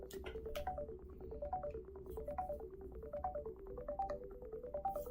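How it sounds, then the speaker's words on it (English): A phone rings faintly with an incoming call, a repeating electronic melody that cycles several times under a low background hum. "Oh, there's a phone call."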